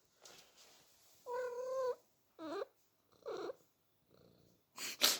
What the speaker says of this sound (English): I have a cat here.